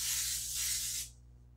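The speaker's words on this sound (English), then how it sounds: "I'm going to spray the bottom and the sides" Baker's Joy baking spray hisses steadily into a cake pan for a coconut cream cake. It is one close, continuous burst lasting about a second, then cuts off sharply.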